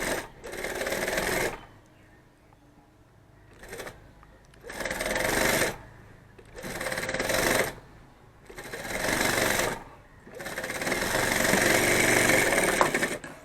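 A sewing machine stitches a pocket onto a bag in several loud bursts of rapid whirring, each a second or two long, separated by short quiet pauses.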